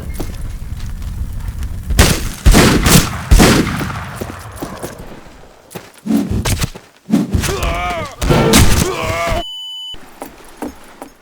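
Bursts of dynamite explosions and gunfire in Fistful of Frags, a Half-Life 2 mod, pile up in quick succession, loud and chaotic, with a few brief electronic tones near the end.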